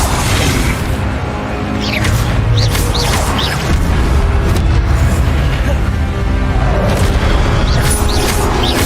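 A fire spell blasts out in Hogwarts Legacy, heavy booming whooshes and crackling bursts in a loud, dense, continuous wash of game effects, with a voice shouting the spell name over the top.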